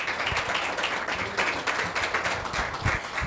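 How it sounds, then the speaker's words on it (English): An audience at a talk on email marketing gives a round of applause, a busy patter of many hands clapping close by that holds steady throughout, with a few sharper individual claps. "round of applause for Jeanne"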